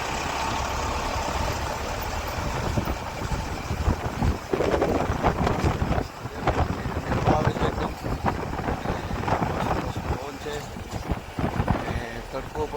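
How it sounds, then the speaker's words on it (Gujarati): Cold mountain wind near Badrinath and Mana village buffets the microphone in a continuous rough rush, with a low engine hum and people talking underneath. "મસ્ત ઠંડી હવા આવે છે"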